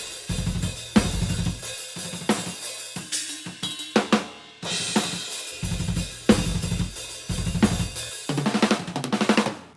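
Overhead microphones on a modern metal drum kit, equalised to cut kick and snare low end, carry crashing, sizzling cymbals over rapid tight hits in punchy, repeated bursts separated by short gaps.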